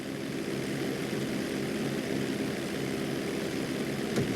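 A propeller airplane flying in GTA V, its engine droning as a steady, loud, full-bodied hum with no speech over it.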